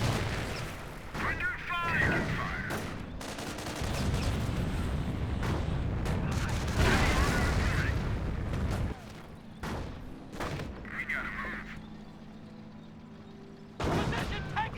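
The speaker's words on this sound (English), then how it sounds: "Grenade has been thrown there." A grenade detonates amid gunfire in a Company of Heroes battle, heavy booms and rattling shots rolling through the clip with brief pauses, and voices talk over the fighting.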